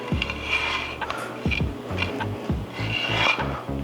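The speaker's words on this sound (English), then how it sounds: "we're gonna grate us in a 1/4 block of some sharp cheddar cheese" A quarter block of sharp cheddar cheese scraped across a grater in steady, rasping back-and-forth strokes, close and clear with no talking, for bacon cheddar cornbread.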